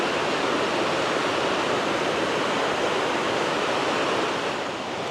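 Pontneathvaughan waterfall in Wales in full spate, a loud, steady roar of rushing water filling the air from close by without a break or any voices.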